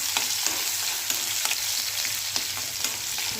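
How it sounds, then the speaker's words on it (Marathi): Cumin, mustard seeds, curry leaves and garlic sizzle in hot oil over a lowered flame, a steady close frying hiss broken by small crackling pops and occasional stirring clicks, with no talking. "तर त्या तेल छान गरम झाले जिरे मोहरी टाकायची गॅस कमी करून घ्यायचा कडीपत्ता टाकायचा कुठलेला लसूण टाकायचा"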